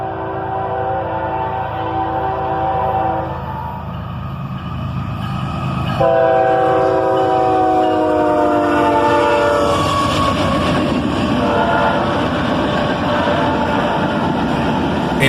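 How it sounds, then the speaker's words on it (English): A northbound manifest freight train led by an ES44AC and an AC44CW locomotive passes close by, sounding a loud multi-tone horn in the middle of a steady rumble and clatter of rail cars. "An ES44 ACH and an AC44 CW lead this northbound manifest train"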